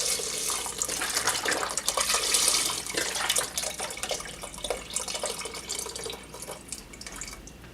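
A whole container of liquid, likely broth, pours steadily into a cooking pot for quinoa corn chowder, a continuous splashing, trickling wash lasting several seconds at moderate loudness with no talking.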